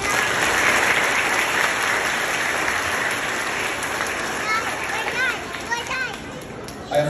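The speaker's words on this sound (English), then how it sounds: "A round of applause for them, please." A crowd at a graduation valedictory ceremony claps in sustained, dense applause, with scattered cheers and voices mixed in, fading slightly toward the end.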